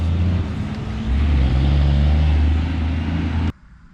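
A sold Impala SS car rumbles loudly nearby as it drives off, the engine note steady and deep before cutting out abruptly near the end.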